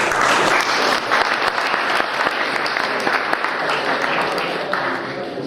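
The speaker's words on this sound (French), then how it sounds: "on peut les applaudir très très fort" Sustained applause from an audience at a cycling club awards evening, a steady dense clatter of many hands clapping that fills the room, close and loud throughout with no speech over it.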